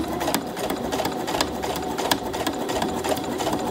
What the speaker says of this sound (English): closely to the edge give this a straight stitch so everything's secured nicely